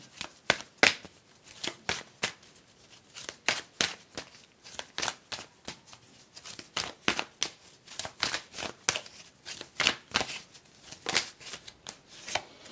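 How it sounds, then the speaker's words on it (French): Tarot cards are handled and laid down one by one in a quick, irregular series of crisp slaps and rustles, close and clear with no talk over them. "Je vais recouvrir chaque carte pour voir un peu mieux."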